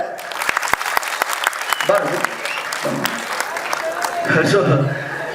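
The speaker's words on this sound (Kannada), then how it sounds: "ಜೋರ್ ಚಪ್ಪಾಳೆ." Loud applause from an audience at a movie title launch event, with sharp claps building into sustained clapping while voices talk over it.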